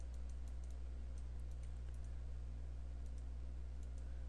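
Faint, sparse computer mouse clicks sound over a steady low hum while a tree is trimmed in landscape design software.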